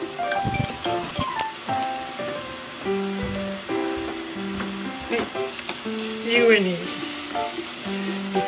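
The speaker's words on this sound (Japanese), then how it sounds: "それでひき肉を炒めていきたいと思います。" Ground meat stir-fries in leftover sauce in a pan for an eggplant kabayaki rice bowl, giving a steady, close sizzle with some stirring clatter and a tune playing over it throughout.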